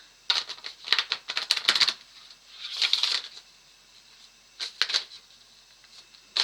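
Tarot cards being shuffled by hand, giving crisp papery riffling bursts and soft flutters in several short clusters, close and fairly quiet, with brief pauses between.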